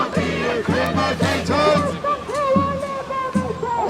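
A massive crowd at an emergency protest for hunger strikers, chanting in loud, rhythmic, pulsing bursts of many voices, close and sustained.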